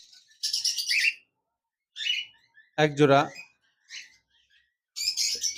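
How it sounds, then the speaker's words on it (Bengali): A pair of lutino red-eye cockatiels gives sharp, bright chirps in separate bursts close by, with someone briefly speaking a word between calls. "লটিনো রেড আই রানিং কোকাটেল পাখি রয়েছে"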